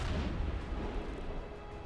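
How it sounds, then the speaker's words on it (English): Explosion in the video game Star Citizen: a sustained low rumbling boom that fills the whole moment, loud and dense, slowly tailing off with no speech over it. "Look at the explosion."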